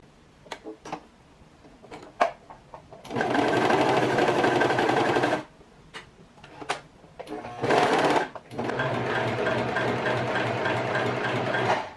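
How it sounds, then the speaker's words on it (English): Serger sewing machine stitching fabric edges, three loud rapid whirring runs of a few seconds each, separated by short pauses with clicks and handling sounds. "go ahead, take this to your serger"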